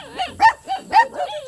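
Dogs barking outdoors in a rural yard, about four sharp, tonal barks in quick succession, fairly close and loud, with no talking over them.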